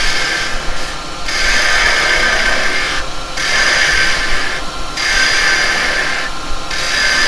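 A detail carbide chisel cuts wood spinning on a lathe, giving a loud, steady rasping hiss that runs continuously, with brief drops in the high scraping tone between passes.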